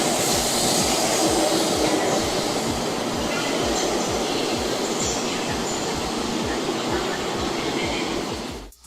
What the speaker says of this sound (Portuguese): Exportados do Japão, os trens THSR 700T levam até 1000 passageiros, operando a velocidades de até 300 km por hora.